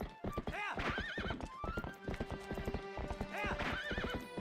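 Horse in Twilight Princess HD, galloping with steady clip-clop hoofbeats throughout and loud, drawn-out whinnies near the start and end, close and prominent.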